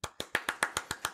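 A single person clapping alone, about eight sharp, evenly spaced claps in just over a second, close and crisp with nothing else heard.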